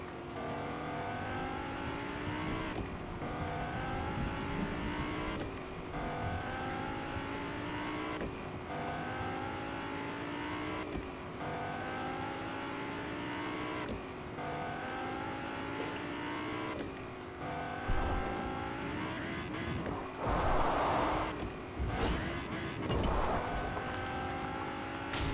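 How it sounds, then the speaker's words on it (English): A vehicle drives around in circles, its engine note rising and falling in repeated revving sweeps with a steady rhythm over about twenty-five seconds. It is moderately loud and sounds alone, with a few louder bursts near the end. "Just driving around in circles."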